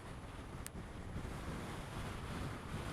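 Steady wind roars and buffets across an exposed coastal headland at the northern tip of Inishowen, a loud, unbroken rush with no voices.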